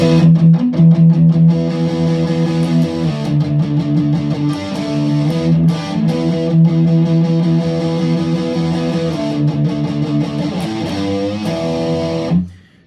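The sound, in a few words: distorted electric guitar song ending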